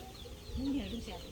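A chicken at a grandfather's rural cattle pen gives a single short cluck, close and faint over a low background hum.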